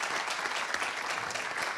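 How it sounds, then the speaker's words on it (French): An audience at a solar energy conference session applauds in a steady, even roll of many hands clapping, moderately loud and continuous throughout. "on peut vous applaudir"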